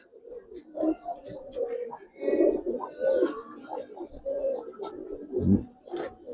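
Gribaz coloring pigeons coo in repeated low, throaty rolls, a cluster of birds close by with overlapping calls and faint flutters throughout.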